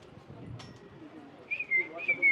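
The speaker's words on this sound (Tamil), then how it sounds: "நிறைய குயிலும் பறவையுமா வருதே" Birds call near a house, with a couple of short warbling whistled phrases toward the end over a low, murmuring background that may hold faint voices.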